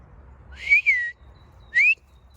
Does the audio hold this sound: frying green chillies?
no